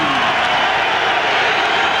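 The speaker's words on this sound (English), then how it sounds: "Ladies and gentlemen, big round of applause for Butterbean." A loud arena crowd applauds and cheers for heavyweight boxer Butterbean at a boxing event, a dense, steady roar of clapping and shouting lasting throughout.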